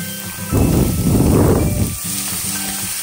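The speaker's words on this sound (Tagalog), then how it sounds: "Just mix it and saute it well" Onions and garlic sauteing in a hot pan, a loud close burst of sizzling and stirring that swells for about a second and a half, then settles back to a quieter simmer.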